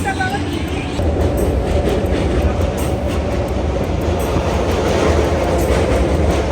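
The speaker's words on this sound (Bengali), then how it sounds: "বন্ধুরা আমাদের ট্রেন চলে এসেছে" A train pulls in at Howrah station: a loud, close, continuous rumble with rhythmic clatter of wagons rolling past, and no voices.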